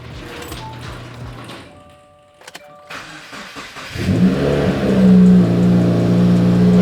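A 2020 Subaru WRX fitted with a flex fuel kit cranks briefly, then its engine catches and settles into a loud, steady idle close by.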